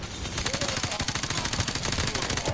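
Rapid automatic gunfire from Call of Duty 4: Modern Warfare, a dense rattling stream of shots bursting continuously for the whole stretch, loud and close.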